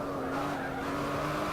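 A V8 race car drifts hard around the Bathurst circuit, its tyres squealing over a steady, loud engine drone that holds without a break.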